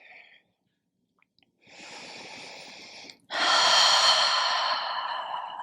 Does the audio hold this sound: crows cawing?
no